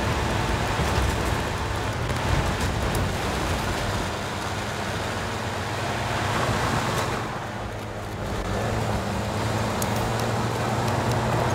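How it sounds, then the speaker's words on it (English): In the Battlefield 1 game, a jeep drives along with a steady, loud engine rumble and road noise that stays constant throughout, dipping only briefly near the end before picking back up, with no talking. "I see that jeep."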